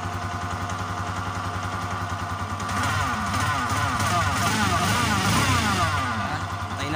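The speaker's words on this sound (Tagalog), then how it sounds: "parinig ko muna sa inyo yung tunog big bike niya." Simulated big-bike engine sound played through a speaker fitted to a Rusi SS150 motorcycle, a steady loud droning rumble that thickens and revs with wavering pitch partway through, with no voices.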